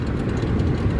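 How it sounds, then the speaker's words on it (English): Two-stroke outboard boat motors running close by as a dense, steady, noisy roar with a low rumbling undertone, heard alone for about a second. "Starting the two strokes, making sure they're running well."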